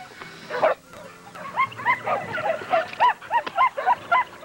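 Pure Hemphill game dog barking in a series of sharp, repeated yips and barks with whimpering between them, close and fairly loud, with no talk over it.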